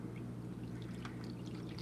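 Water pours from a half-full can in a short, continuous splashing stream, close up, with no voices.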